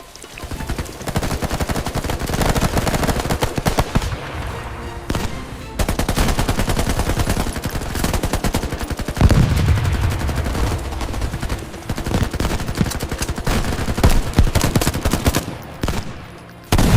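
Heavy WWII-style gunfire as a sound effect for a toy soldier battle scene set at Cape Gloucester, with dense machine-gun bursts and rifle shots rattling continuously and loudly, broken by a few brief pauses.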